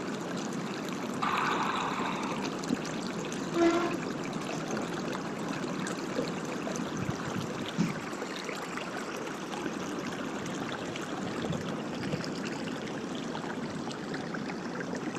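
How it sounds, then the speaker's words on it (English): A woodland creek gurgles and trickles in a soft, continuous wash of running water, fairly faint and unbroken, with no one talking. "Water gurgling."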